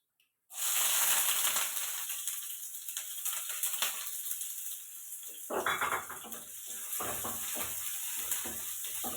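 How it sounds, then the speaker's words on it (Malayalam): Chopped onion dropped into a hot pan bursts into a loud, steady sizzle that carries on continuously, with occasional stirring scrapes close by. "നമ്മൾ അരിഞ്ഞ് വെച്ച സവോള ഇട്ട് കൊടുത്തേ"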